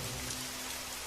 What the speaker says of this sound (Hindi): अब बारिश तेज हो चुकी थी और रास्ता फिसलन भरा हो गया था।